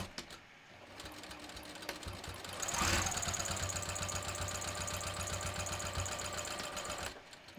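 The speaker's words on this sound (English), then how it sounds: "we're going to sew them 1/4 inch" A sewing machine stitches wallet pieces at a quarter-inch seam, running steadily for about four seconds after a brief start, with a loud, even mechanical whir that stays close and alone.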